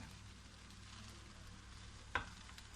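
Sabudana khichdi with potato being stirred in a frying pan, a soft steady sizzle with one brief scraping knock of the spatula, close and fairly quiet.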